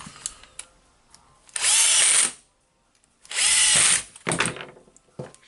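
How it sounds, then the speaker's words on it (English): Makita HR2811FT rotary hammer drill under repair running in two loud bursts of about a second each, with quieter handling clatter and workshop noise between and after. "that drill is still losing the bit"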